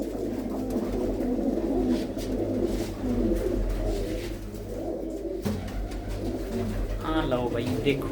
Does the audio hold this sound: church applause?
no